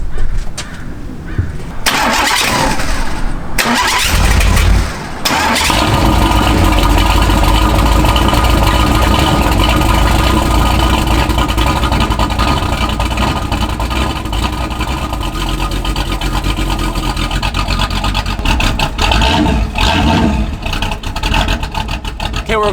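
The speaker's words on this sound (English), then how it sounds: "it's time for a cold start. I'm gonna set you guys up on a tripod so you can hear it." A V8-swapped Jaguar rated at 420 horsepower cold-starts with a brief cranking whir, catches and roars up, then settles into a loud, steady, rumbling high idle that carries on close by.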